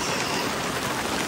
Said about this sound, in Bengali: এই চারি সাইড পুরো বৃষ্টি নেমে গেছে এবার